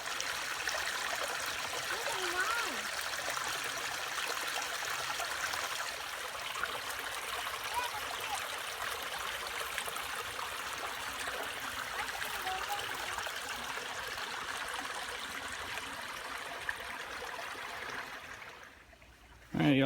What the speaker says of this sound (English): we stopped at the creek on the way home